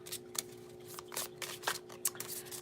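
A deck of cards is shuffled in several quick, soft riffling bursts against a low steady hum; the sounds are close but quiet, with no talk.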